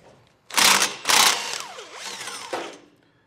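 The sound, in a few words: ratchet removing two 13mm nuts from exhaust flange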